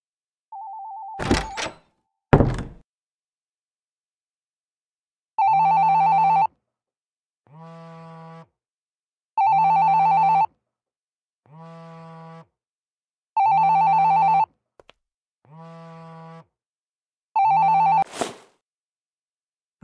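A telephone rings in the video game Shadows on the Vatican: a short electronic warble and two thuds, then six evenly spaced bursts of a clear ringing bell, each followed by a softer echoing tone, loud and without talk.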